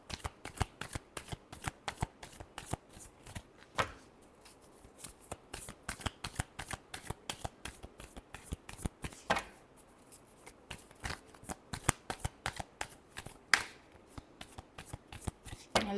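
Tarot cards being shuffled by hand in quick, crisp riffles and flicks, a steady run of sharp papery snaps close by with brief pauses, no voices present.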